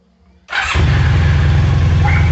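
Motorcycle engine starting: after a quiet moment the engine cranks briefly, catches and settles into a loud, steady, close-up running note that holds to the end without clear revving.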